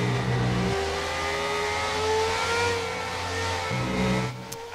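Formula 1 car in the racing game F1 2019 on the Spa circuit, engine revving and accelerating loudly and continuously with rising harmonic whine, close and steady throughout, no voices.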